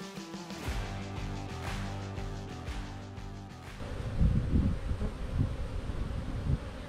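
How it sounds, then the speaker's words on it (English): A hornet buzzes close around a beehive during a hive inspection, its whining drone rising and falling as it darts near, then fading into rustling and wind noise. "There's a hornet after me."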